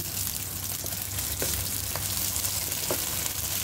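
Garlic and onion frying in a pan, a steady bright sizzle running throughout with a few soft clicks of a utensil, close and continuous with no voices.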